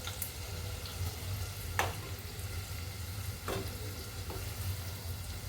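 Garlic and coriander sizzle and fry steadily in a roasted onion-coconut paste for a Konkan-style gravy, with a few sharp stirring scrapes cutting through the constant crackle.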